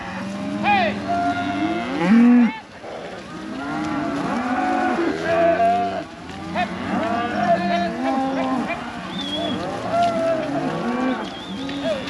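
Cattle on a drive through the Black Hills among aspens and pines moo repeatedly, several animals calling loudly and overlapping throughout with no breaks.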